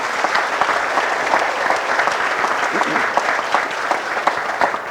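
Dense, steady applause from an audience at a hospital announcement event in Belpre, Ohio, a crowd clapping continuously at close range for several seconds.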